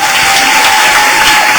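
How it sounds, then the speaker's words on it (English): Loud, dense applause from a conference audience at a closing session, steady wash of clapping filling the whole moment with no pauses. "One more round of applause for this side."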